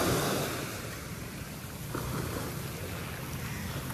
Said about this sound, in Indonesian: jadi agak gue deketin karena ada suara ombak